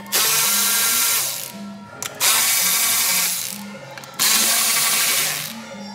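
Small screws on a Jeep JL dashboard are backed out with a 5/16 socket on a powered driver: three loud, close whirring bursts, each a second or two long, separated by short pauses.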